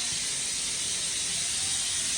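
A pressure cooker cooking dal releases steam through its whistle, a steady, loud, bright hiss that holds unbroken for the whole moment with no voices.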